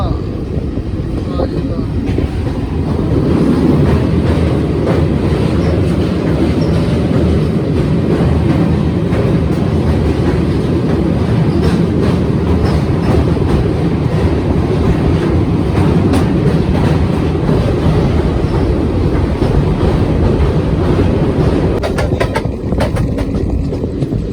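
The 14508 Fazilka–Delhi Intercity Express runs on rails, heard from on board as a loud, steady rumble with rhythmic clickety-clack over the joints, continuous throughout.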